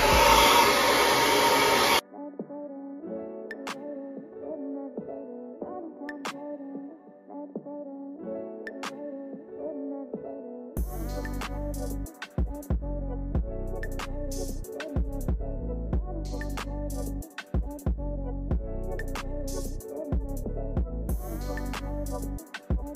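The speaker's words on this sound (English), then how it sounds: "Let it dry, and then we go in with the brush and work it through." A hair dryer blow-dries type 4 natural hair during an at-home silk press, with a loud steady roar at the start, then a softer whirring that cuts in and out under background tones.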